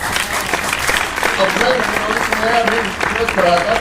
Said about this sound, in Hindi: एक बार जोरदार तालियों से अपना इस्तकबाल आप लोग करें।